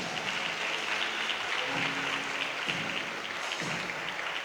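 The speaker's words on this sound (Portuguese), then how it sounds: "Aplaude o Senhor mais forte." Church congregation applauding at a worship service, a steady wash of many hands clapping together at moderate level, with no voices standing out above it.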